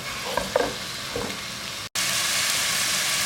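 Onions sizzle steadily in a hot pan with garlic, loud and close, with a few utensil clinks early on, a momentary dropout near the middle, then an even, unbroken hiss.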